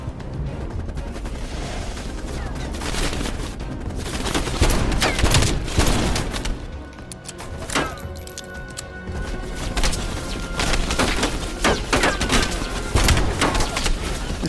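Dense, continuous gunfire in the Call of Duty Cold War campaign on PS5, with rapid overlapping shots and booming bursts, loud and unbroken throughout.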